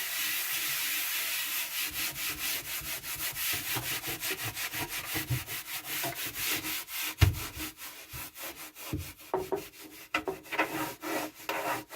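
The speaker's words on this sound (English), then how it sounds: "I just use a damp piece of cloth and wipe" Damp cloth rubbing and wiping across a surface to lift oil residue, a close, continuous scrubbing hiss that turns into quicker, choppier strokes toward the end, with no voices.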